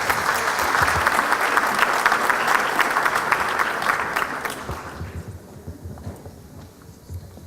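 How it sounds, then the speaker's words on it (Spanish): Strong applause from an audience at a university business forum welcomes Dr. Angélica González, a dense wash of clapping for about five seconds that then fades to a few scattered claps and room noise. "Recibimos con un fuerte aplauso a la doctora Angélica González."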